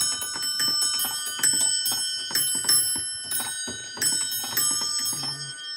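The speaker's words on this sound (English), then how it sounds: "we're gonna go ring the victory bells" Victory bells ring in a rapid, steady run of bright metallic strikes, loud and close, with a short lower tone near the end and no talking.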